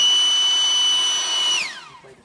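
A small rechargeable USB electric air inflator whirs with a steady high-pitched motor whine for about a second and a half, then winds down and stops.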